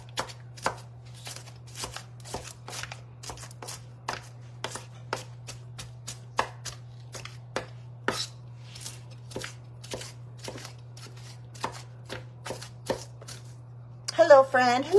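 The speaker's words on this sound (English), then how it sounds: "we're going to do onions, like super finely chopped onions" Onions being finely chopped with a knife on a board: quick, steady taps repeating close by over a constant low hum, with a short burst of voice at the end.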